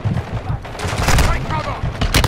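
Rapid gunfire bursts in Call of Duty DMZ, a shotgun among the weapons, loud and close throughout under excited voices shouting over the shots.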